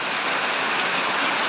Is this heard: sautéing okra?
no